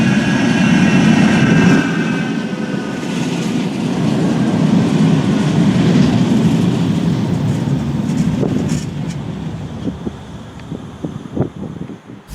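Manchester Metrolink tram on the Bury Line at a station with a turn-back platform, a loud continuous low rumble with wind buffeting the microphone, easing toward the end with a few clanks.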